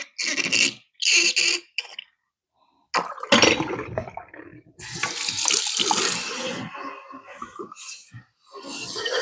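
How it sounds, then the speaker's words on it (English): Water runs from a tap into a kitchen sink while callaloo is rinsed, coming in short bursts and then a longer steady splashing stream, close by, with breaks of silence between. "So while it is in the sink catching water"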